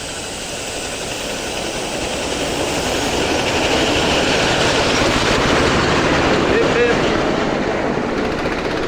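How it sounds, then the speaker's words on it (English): A train in Kanchanaburi, Thailand rumbles and roars past close by, growing steadily louder with a rhythmic clatter, while a voice briefly calls out over the noise. "Here comes the train ride."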